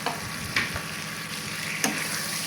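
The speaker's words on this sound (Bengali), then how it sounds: "আদা রসুন জিরা বাটা আর লবণ দিয়ে ভালো করে আম্মু নেড়ে চেড়ে নিচ্ছে" Spices, ginger-garlic-cumin paste and tomato frying in a pan, a dense continuous sizzle close up with a few sharp scrapes of a stirring spoon, no talking.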